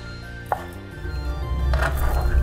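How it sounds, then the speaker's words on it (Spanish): A knife chops chicken breast on a cutting board, slicing it into thin strips. A few sharp, close knocks are followed by softer, quicker cuts, with no speech. "Ahora picamos así, para que sean más delgaditos,"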